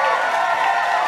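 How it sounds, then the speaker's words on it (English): A school talent show crowd at the Hillpark's Got Talent final applauds and cheers for the judges, a brief, loud and dense burst of clapping and voices. "can you give a big round of applause for our judges here?"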